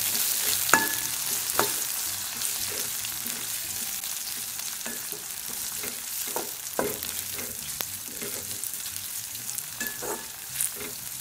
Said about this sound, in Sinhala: ඊළඟට මේකට කපාගත්තු තක්කලි ටික එකතු කරලා ඒ ටිකත් ටිකක් තෙම්පරාදු කරගන්න.